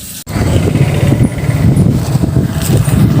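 A motorcycle engine runs steadily and fairly close at a busy fair ground, a sustained low rumble filling the whole stretch after a brief sharp dropout near the start.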